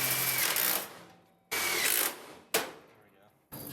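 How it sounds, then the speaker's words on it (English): Seat rail bracket being fastened on a VW Karmann Ghia under restoration, with four bursts of ratcheting or power-driver whirring, each lasting about a second and trailing off, up close in a garage, with brief speech in between. "I need to screw this bracket on here."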